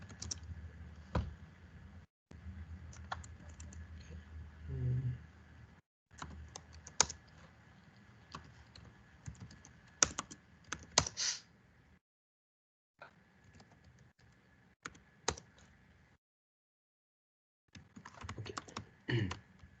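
Typing on a computer keyboard in bursts of close, crisp key clicks separated by short silent pauses, with no voice over them.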